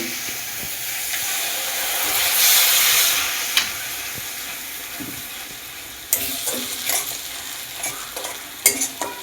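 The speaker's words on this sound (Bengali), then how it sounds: "মশলাটা ভালো করে কষবো" Spice paste sautéed and stirred in a hot pan for desi-style diamond fish, a steady sizzle with a swelling hiss in the middle and scraping stir strokes clattering near the end.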